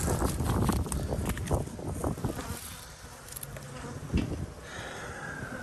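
Honeybees buzz around hives at an apiary, several close insect drones rising and fading as individual bees fly past the microphone, over light wind noise.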